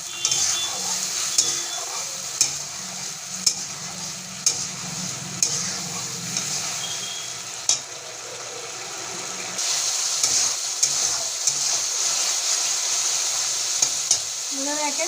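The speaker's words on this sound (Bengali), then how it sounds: "এবার মশলাটা দিয়ে দেবো। দিয়ে ভালো করে কষে নেবো।" Spice paste frying in oil with fried prawns and stirred hard, giving a loud continuous sizzle punctuated by sharp spoon clacks and scrapes against the pan at an uneven pace, with no speech.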